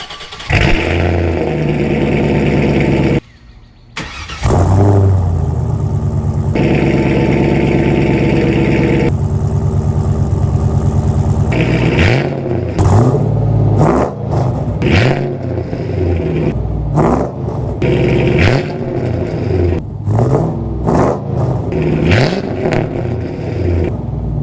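A Pontiac WS6 Trans Am engine fitted with a Speed Engineering exhaust and full-length headers revs loudly and close, rising and falling in a series of throttle blips over a steady rumble, with a brief break early on.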